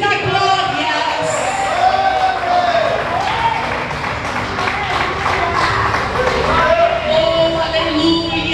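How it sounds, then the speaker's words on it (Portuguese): Congregation at a lively church service clapping hands steadily throughout, a dense ongoing patter mixed with voices, singing and music, loud and close. "Bate palmas e dá glórias."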